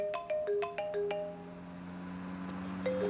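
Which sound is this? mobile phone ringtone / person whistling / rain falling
mobile phone ringtone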